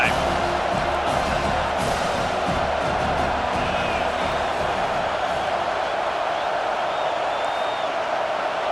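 A large football stadium crowd during an NC State versus Miami game, a loud, continuous roar of cheering and shouting that holds steady throughout, with a broadcast commentator's voice heard over it.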